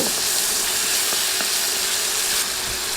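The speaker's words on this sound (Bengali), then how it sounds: "রসুন বাটা দিয়ে কয়েক সেকেন্ড ভাজব" Steady, loud sizzling of garlic paste frying in a hot pan, with faint scraping clicks from stirring throughout, no voices.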